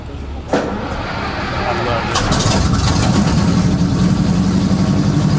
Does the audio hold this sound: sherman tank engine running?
yes